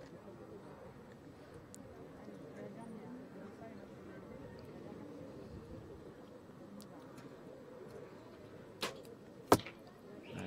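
At an outdoor compound bow championship, an arrow is released and strikes the target in two sharp impacts near the end, following a long stretch of wind noise and a faint murmur of background voices.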